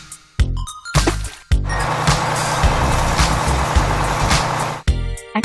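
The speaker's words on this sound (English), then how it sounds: "Dump truck." A dump truck's engine roars steadily and close for several seconds, framed by short clanking and beeping sounds at the start and end.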